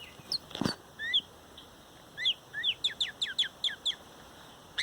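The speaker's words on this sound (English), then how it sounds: "these birds are really not performing for us tonight" Pet birds chirp and whistle indoors in short, rising and falling tweets that come in bursts and then quicken into a rapid run of notes. A brief soft rustle sounds near the start, and no one talks.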